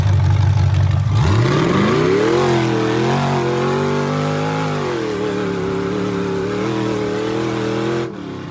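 A big 6.0-litre gasoline truck engine revs up sharply, then holds a loud, steady drone with slight wavering pitch before cutting off abruptly.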